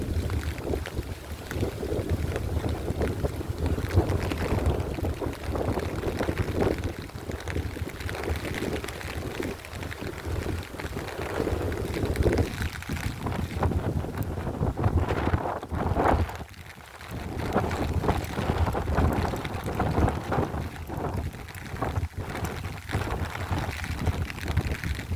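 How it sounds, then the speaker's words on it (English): Rain and strong wind gusts batter an umbrella outdoors on a rainy fall day. A steady, loud, close roar of buffeting wind and rain continues throughout, with no talking. "The wind gusts almost took me in this umbrella."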